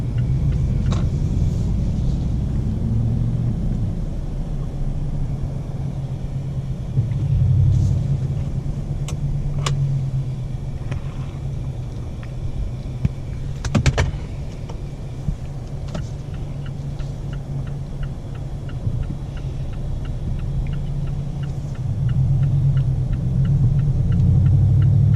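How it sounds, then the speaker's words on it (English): Turbocharged 2018-2020 Mazda 6 Grand Touring Reserve heard from the cabin as it accelerates onto a highway, a steady low engine and road rumble that swells slightly toward the end, with no talking. "I'm going to try to get on the highway so you can see the acceleration with the turbo here."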